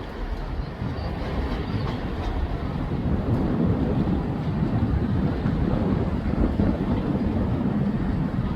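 Train unit 156491 arriving at Newcastle station, a loud continuous rumble with rhythmic clattering of wheels over rail joints, growing slightly louder as it pulls in, with some wind buffeting on the microphone.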